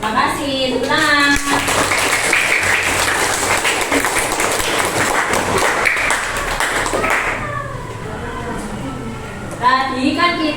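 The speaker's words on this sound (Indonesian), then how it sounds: "Tepuk tangan." A classroom of students at a madrasah teaching-practice lesson claps together for about six seconds, a dense, steady patter. Children's voices talk and call out before and after it.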